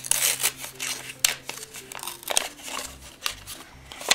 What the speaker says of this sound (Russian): Здесь насечка, открываем наш пакетик.